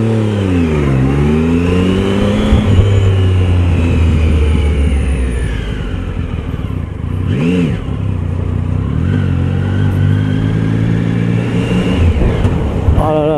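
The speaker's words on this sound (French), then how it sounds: "entendre la sonorité du moteur avec un pot d'origine qui est tout à fait correct" Triumph Tiger Sport 1050 three-cylinder motorcycle on its stock exhaust, revving and pulling through rising and falling engine sweeps while riding, loud and continuous with steady wind rush throughout.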